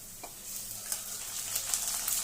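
Chicken liver pieces frying with onions in a pan give a soft, steady sizzle with a few faint stirring scrapes, quiet and close, with no talking.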